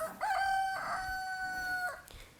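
A rooster crows once, a long, loud, clear call close by on a village walk in Fiji, with faint background noise and no talk.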